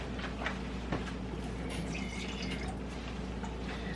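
A thin stream of water trickles and splashes into an emptied metal sauce can, with small drips over a steady low hum, close and fairly quiet.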